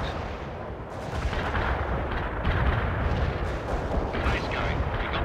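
Heavy artillery barrage in World in Conflict's Soviet Assault, with booming impacts and crackling gunfire blending into a loud, continuous roar, and bursts swelling near the middle and end.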